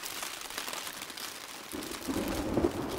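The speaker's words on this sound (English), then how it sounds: "And that's the thunder." Thunder rumbling during a winter snowstorm at a campsite, a low swelling roll that builds in the second half over a steady background of wind and precipitation.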